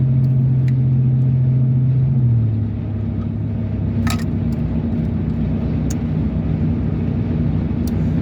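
A car passing on a road by a hill, heard from inside another vehicle: a steady loud engine drone that dips in pitch, with faint distant rumble and a few brief clicks.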